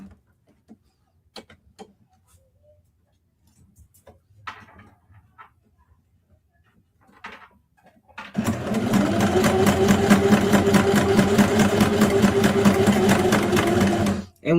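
Sewing machine stitching a fabric book cover with a zipper, running steadily and loudly for about six seconds after a quiet stretch of small handling clicks and rustles, then stopping abruptly.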